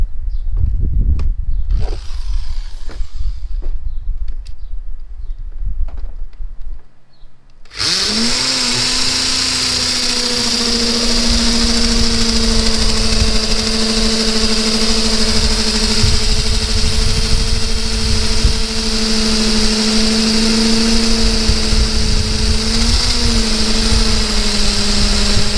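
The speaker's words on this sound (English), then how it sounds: "now I'm going to go ahead and drill the hole" A power drill bores an anchor bolt hole for a Rubbermaid shed, a loud steady whining drone that runs continuously for almost twenty seconds after a few quieter handling knocks.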